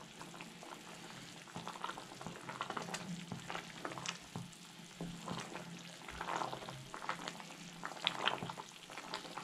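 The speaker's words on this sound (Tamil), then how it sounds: "சூப்பு நல்லா கொதிச்சிருச்சு." Soup for Malaysian laksa boils in a pot, giving a faint, steady bubbling and simmering with small irregular pops throughout, no voices.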